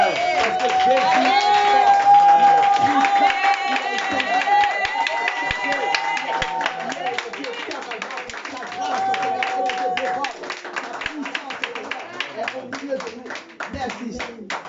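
A church congregation cheers, whoops and claps loudly throughout, with voices shouting over the continuous crowd noise.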